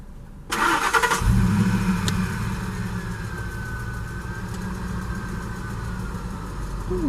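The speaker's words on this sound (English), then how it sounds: "Get out of here with the fucking monster truck." A nearby monster truck engine cranks over and catches, then settles into a loud, rumbling idle that holds steady with a slight drifting whine, heard from inside a parked car.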